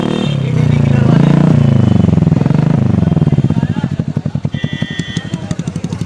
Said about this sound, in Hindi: बस एक एग्जॉस्ट ये है जिसका आपने साउंड सुना।